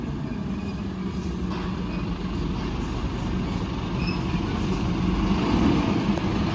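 A heavy truck maneuvers to turn around on a road in Hyderabad, its engine giving a steady, loud, low rumble that swells slightly toward the end, with no talk over it.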